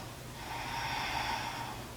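A single long, steady breath, faint and close, drawn slowly in a yoga class.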